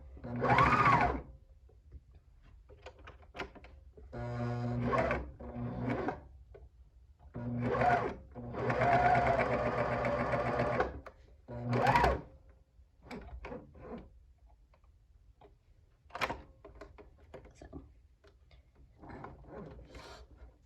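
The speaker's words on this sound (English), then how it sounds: "we want to sew off a few inches of binding over that" A sewing machine stitches a few inches of binding over a keyhole opening in several short whirring bursts separated by pauses. The sound is close and moderately loud, with no talking.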